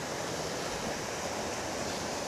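Small waterfalls on Burbage Brook in wooded Padley Gorge, heard as a steady, dense rush of tumbling water, close and continuous, with no voices.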